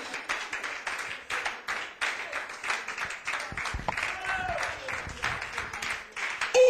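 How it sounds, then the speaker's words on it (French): Church congregation in Paris claps in quick rhythmic bursts during a worship service, with voices and crowd noise mixed in around the steady applause. "Applaudissez le Seigneur Jésus-Christ."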